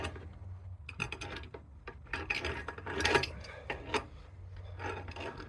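Threaded pipe fitting, a 90-degree elbow, being tightened onto a nipple at a gas meter connection, giving close scraping, rubbing and ticking sounds of metal threads and a wrench in uneven bursts.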